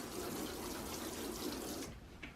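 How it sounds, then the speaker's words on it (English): Water pours steadily from a watering can onto microgreen seeds, a close, continuous splashing patter that stops abruptly near the end, with no talking. "We're just going to water it now. Just use a watering can or whatever you have at home"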